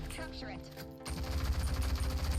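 Rapid gunfire from the Rogue Company shooter game erupts after a second into a dense, continuous burst of repeated shots, with a voice heard at the start.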